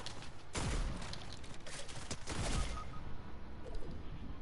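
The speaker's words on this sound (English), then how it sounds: "That's a shotgun." Shotgun blasts in the Fortnite video game, with two loud, booming shots standing out against a steady bed of busy gameplay noise and smaller bursts of fire.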